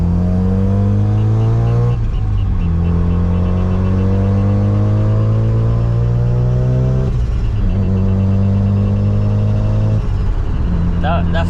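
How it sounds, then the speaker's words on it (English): A big-turbo Mazda RX-7 FD pulls hard through several gears, its loud rotary engine note climbing in long sweeps broken by brief shift gaps, with turbo flutter on the lifts; recorded from inside the car with wind noise. "That flutter's to die for."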